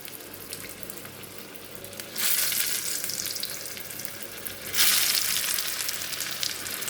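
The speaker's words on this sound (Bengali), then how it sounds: "এখানে আমি অল্প তেল দিয়েছি, বেশি তেলেরও দরকার নেই। দিয়ে এটাকে আমি ভেজে নেব।" A snack frying in a hot pan with only a little oil, its soft sizzle swelling sharply into louder bursts of hissing crackle twice as more batter or oil meets the heat.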